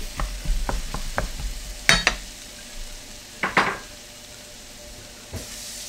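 Onion and garlic fry in a medium-sized wok, a steady close sizzle punctuated by a quick run of metallic taps and a couple of louder scraping clatters from stirring, with no talking.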